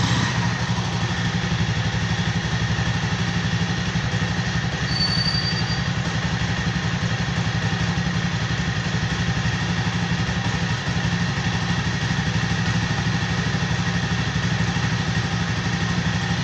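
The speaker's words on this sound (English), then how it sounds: "How smooth the engine is. Engine is still running." A Jawa Classic motorcycle engine idles smoothly at a steady, even pitch, a constant close hum and fine mechanical whir that holds unchanged throughout with no talking.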